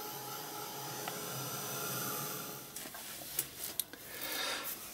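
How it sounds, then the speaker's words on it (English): Heat gun blowing hot air to dry paint on an art journal page, a steady close whooshing drone running throughout with a few brief clicks and taps near the end. "So once again, grab the heat gun."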